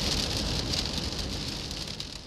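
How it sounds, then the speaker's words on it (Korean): Steady rain falls on a rainy day in Seoul, a dense, even wash of hiss and patter that stays fairly loud and constant with no voices over it. "비는 하루 종일 내릴 기세다"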